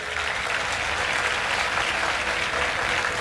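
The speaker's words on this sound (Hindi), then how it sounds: "एक बार पुनः ताली बजाइए।" An audience applauds at a religious gathering in Kartar Nagar, Delhi, producing a dense, steady, sustained clapping from a large crowd for a few seconds, with no talk.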